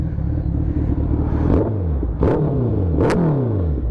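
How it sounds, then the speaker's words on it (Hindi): A Kawasaki Ninja ZX-10R and Suzuki Hayabusa sport motorcycle exhaust roars continuously nearby, with three sharp revs climbing and falling back over a deep, steady rumble. "दोनों का एग्जॉस्ट मैं आपको वो सुना देता हूँ एक बार, दोनों गाड़ियों का"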